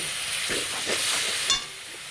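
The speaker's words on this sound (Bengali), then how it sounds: "সামান্য সিদ্ধ হওয়া জল দিয়ে মশলাটাকে কষিয়ে নেব" Spice paste of poppy seed, cashew and melon seeds sautéing in a pan with a splash of water, giving a loud, continuous steamy hiss and sizzle with soft stirring scrapes and a brief surge near the end.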